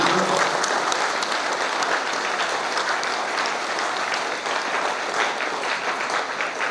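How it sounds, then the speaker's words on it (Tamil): A church congregation claps loudly and steadily after a morning feast mass for Our Lady of Mount Carmel, with thick, continuous applause that carries evenly for several seconds without pause. "ஒரு ஜோரத்தை கைத்தட்டணும்"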